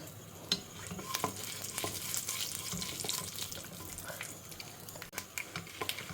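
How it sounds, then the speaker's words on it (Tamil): Mustard seeds splutter in hot coconut oil, scattered sharp pops and crackles over a low, quiet sizzle, close by, with no talking. "பொரியட்டும் கடுகு"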